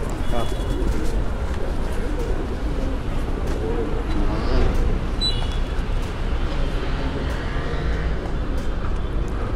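A flock of pigeons coos continuously amid a busy, noisy background, with voices murmuring underneath throughout at an even loudness.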